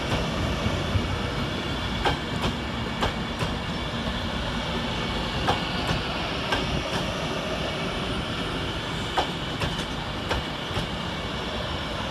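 A Transport for Wales service pulls away from Crewe railway station, its steady rumble and wheel noise rolling continuously, with rhythmic clicks over rail joints running through the whole stretch.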